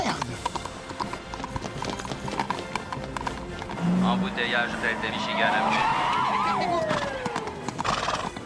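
Horses clip-clop and whinny amid a busy movie-style scene with vehicle and skidding noises, a loud neigh rising near the middle while voices talk over the action.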